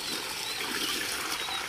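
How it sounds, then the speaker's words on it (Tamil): Water poured by hand from a pot around the base of a freshly planted coconut sapling, a steady close trickle and splash running continuously with no talking. "உயிர் தண்ணியை 3 குடம் ஊற்றணும்."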